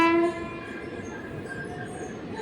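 A passing train gives a loud horn blast at the start, then its heavy rolling rumble carries on steadily through the rest, heard from trackside on a morning walk.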